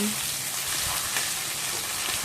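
Ghatkol leaf paste frying in oil over medium-low flame, giving a steady, even crackling sizzle close by with no voices.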